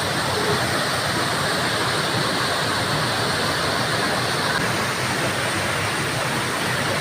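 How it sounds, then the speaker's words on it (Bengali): Water from a waterfall near the Panchalingeswar temple hill rushes in a steady, dense roar close by, an unbroken broadband wash for the whole stretch with no voices over it. "জলটা আসছে এখান দিয়ে"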